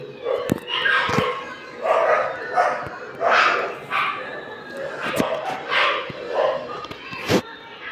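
Dogs bark outdoors in repeated short bursts at a moderate distance, sometimes yipping, while people talk over them during a Roblox Pet Simulator X session.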